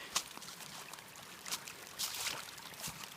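A mountain stream pours downhill along the Starr Trail, its steady rushing wash broken by a few brighter splashes, close by and with no voices over it.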